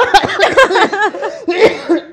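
A burst of harsh, close coughing mixed with a bit of laughter, loud and uneven over a couple of seconds.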